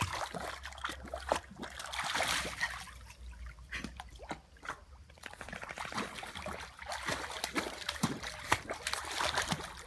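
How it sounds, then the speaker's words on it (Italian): A cat splashes and paddles in water, producing irregular sloshing, dripping and splatters at close range. The splashes are moderately quiet and arrive in uneven bursts. "Vai in acqua, Otto"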